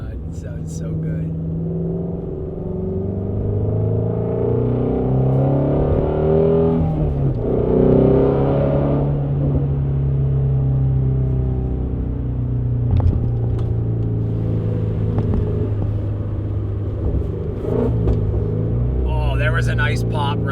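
Shelby GT350 with a Corsa X-pipe exhaust accelerating, a loud close-up engine drone climbing and dropping through the gears with a heavy rumble, ending in a few sharp crackles.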